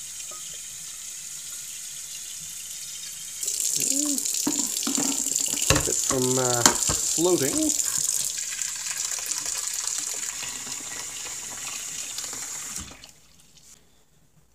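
Hot water runs from a tap into a container holding a bottle, a steady broadband gush that swells partway through and stops near the end, with a person talking over it.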